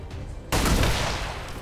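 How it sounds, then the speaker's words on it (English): A pistol fired at a mech in the XCOM 2 video game: one sharp, loud gunshot with a heavy low-end boom, then a trailing echo that fades beneath steady game background noise. "take another shot with your pistol on the mech"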